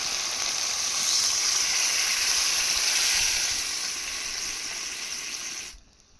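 Water poured into a pan of simmering spiced masala for a yogurt rohu fish curry, a loud, steady hissing sizzle that holds evenly and then drops off abruptly near the end.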